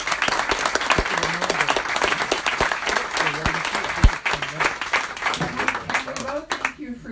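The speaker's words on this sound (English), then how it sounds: "So please give Greg a nice round of applause." A book-event audience gives a warm round of applause for an author, dense clapping running throughout with some voices talking over it and a sharp louder clap partway through.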